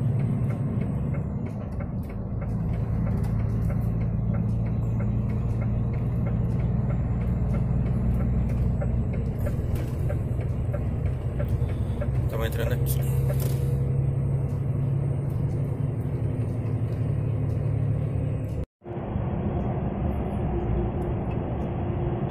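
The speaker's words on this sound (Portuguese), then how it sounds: "Estamos entrando na pista, que é uma pista dupla, muito movimentada" Steady road rumble of cars, buses and trucks on a busy dual carriageway on the way to Santiago, Chile, with a brief hiss like an air brake, heard continuously from inside a moving vehicle, cutting off sharply near the end.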